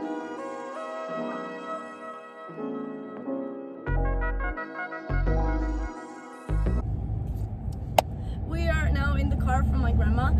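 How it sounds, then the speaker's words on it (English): After a stretch of music, a car driving to a shopping center in Slovenia takes over with a steady, fairly loud interior road rumble and one brief sharp click. "we are right now driving to the shopping center"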